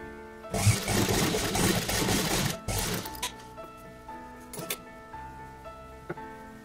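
A sewing machine stitching a placket on an embroidered kurta gives a loud, busy mechanical whir that stops abruptly, followed by quieter clicks and light handling noises with faint tones in the background.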